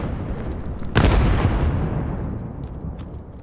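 Grenade blast in the competitive shooter Vail during a playoff match: one sharp, loud explosion with a long rumbling decay, following a softer earlier bang, and faint pops or shots later.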